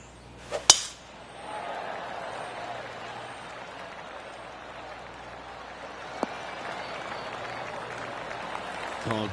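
Light, scattered golf-course applause in a video game rises after a sharp click and continues as a soft, steady patter of polite clapping through the rest.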